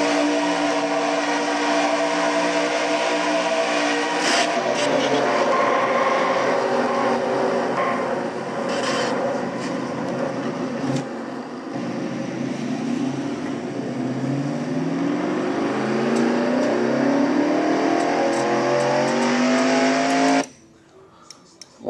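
Onboard race truck engine in a Traxxas Truck Series race at a Top Gear 200 event, a loud steady drone with rising and falling pitch sweeps as the truck revs and accelerates, continuous for about twenty seconds before cutting off abruptly.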